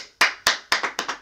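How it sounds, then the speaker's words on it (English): Six sharp, close handclaps from a single pair of hands, spaced unevenly and ringing briefly, with no talking. "A round of applause for the 10 out of 10"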